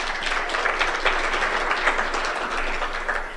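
An audience claps for Martha Karua, a steady, moderately loud patter of many hands that holds evenly for a few seconds.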